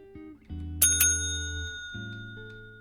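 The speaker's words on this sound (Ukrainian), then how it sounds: "Дзвоник працює, заїжджайте, поселяйтеся." A bright metallic bell in the hotel management game Hotel Business rings twice in quick succession over a steady background music loop, the chimes ringing out and fading slowly.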